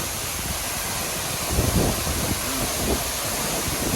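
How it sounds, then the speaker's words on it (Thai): Strong wind driven by the spray of Khun Korn waterfall in Chiang Rai, a steady broadband roar with gusty buffeting on the microphone that swells briefly midway, no talking. "ตอนนี้เป็นลมแรงมากครับ นะ ลมจากแรงน้ำตก"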